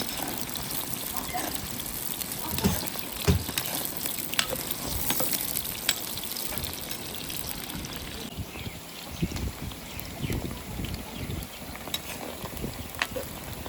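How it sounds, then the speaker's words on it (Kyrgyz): Onions frying in hot oil in a kazan over an outdoor hearth, a steady loud sizzle with crackling spatters and occasional stirring knocks throughout. "Кызып турган майга биринчи пиязды жакшылап кызарта кууруп алабыз."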